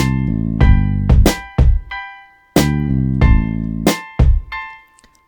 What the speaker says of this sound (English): So I took 2 different kick drums.